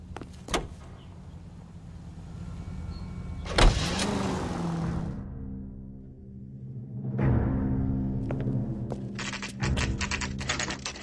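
Car engine and tyre noise from a 1940s-era vehicle in the L.A. Noire video game, a steady low hum with door-like thuds near the start and a rising engine swell later, game sounds alone without talk.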